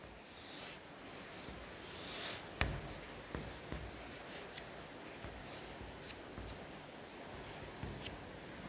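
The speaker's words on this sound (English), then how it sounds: "First you should draw a right triangle." A pen scratches across paper while a right triangle is drawn for a geometry lesson, in a series of short strokes and light taps close up, with faint scraping between them and no talk.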